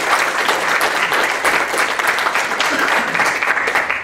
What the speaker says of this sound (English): So I want you guys to give yourselves a great big round of applause.